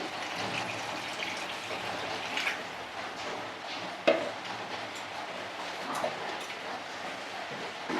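Water is poured into khichuri cooking in a pot, a continuous soft splashing and bubbling hiss with a light knock near the middle, fairly close and steady.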